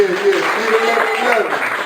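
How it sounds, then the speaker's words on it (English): Open mic audience applauds the host, a continuous clapping wash heard under a voice talking over it. "give a round of applause for the host"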